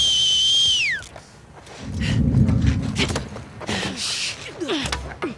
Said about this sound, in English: maybe her whistle will draw in more of her